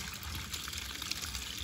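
Water poured from a container onto an aloe vera plant outdoors in Tanzania, a soft continuous trickle and splash, faint and steady.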